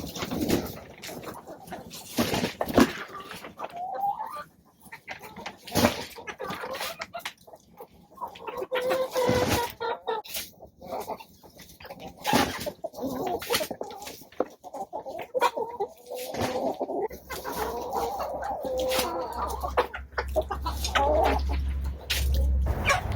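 Hens clucking and murmuring continuously at close range in a winter chicken compost system, with scratching and rustling noises throughout.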